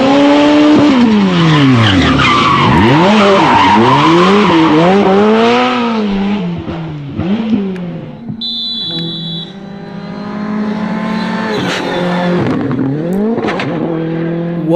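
A rally car skids through loose turns with tires squealing and the engine revving hard, loud and close, its pitch sweeping up and down through repeated slides over about fifteen seconds with no talk.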